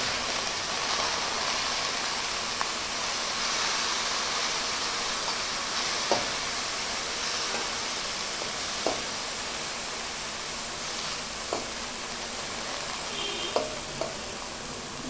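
Leafy greens (shak) fry in a pan with a steady, loud sizzling hiss broken by faint occasional clicks of stirring, with no voices.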